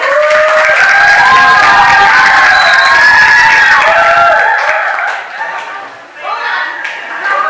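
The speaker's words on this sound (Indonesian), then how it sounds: "Tepuk tangannya mana?" A group claps and cheers for the first team, with loud, excited voices and shouting mixed in over the clapping; the noise eases briefly near the end before rising again.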